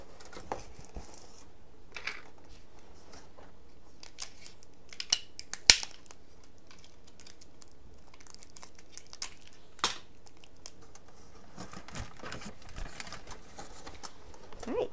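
Tape pulled and pressed onto a cardboard box pinhole projector, giving faint scattered crinkles and a few sharp ticks and rips against a quiet background, with no talking.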